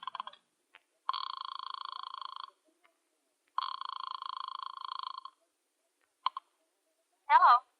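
A telephone sound effect from an old radio drama plays as a call is placed from a lobby phone booth. A few quick dial clicks lead into two long, steady ringing tones, followed by a brief click before a voice begins to speak.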